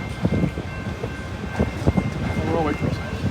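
A train rolls past at a railway crossing on Melbourne's Sandringham line near Brighton Beach, a loud close rumble with rhythmic clattering of wheels and a brief squeal, under some outdoor background.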